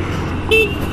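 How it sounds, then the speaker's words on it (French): A single short, high-pitched horn beep from a Honda Shadow 125 motorcycle sounds over a constant low engine rumble. "C'est le son d'un klaxon de moto."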